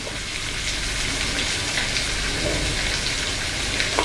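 Catfish and stink beans stir-fried in a hot pan over medium heat, a loud, steady sizzle and crackle that stays constant throughout with faint scraping of stirring.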